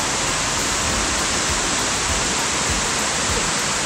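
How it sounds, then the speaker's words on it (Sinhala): Ranmudu Falls in Sri Lanka, water tumbling down in tiers, gives a dense, continuous roar of broadband rushing water, close and loud without pause. "ඔන්න තියෙනවා රන්මුදු ඇල්ල. ඉතින් මේක තට්ටු වශයෙන් ගලාගෙන යන්නේ"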